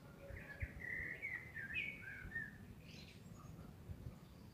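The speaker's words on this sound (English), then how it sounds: "I'm gonna be silent now so you can hear the birds." Birds chirp outdoors in a few short, bright trills and calls at moderate distance over a low, steady background rumble, with no talking.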